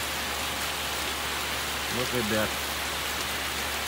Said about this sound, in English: Can listen to the rain